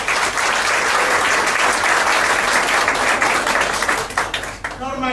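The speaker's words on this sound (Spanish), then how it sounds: "fuerte el aplauso" A theater audience at a comedy show breaks into loud, dense applause for a first-year actor, clapping steadily for about four seconds before a voice resumes talking over the tail.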